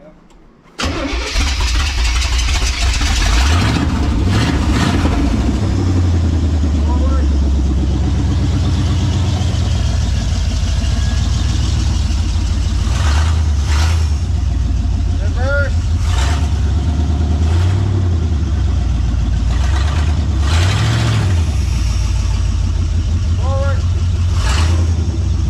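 A wrecked truck's engine roars steadily at close range throughout while it is test driven in its forward gears, with periodic rises and dips in revs and some clanking, and people talking over it.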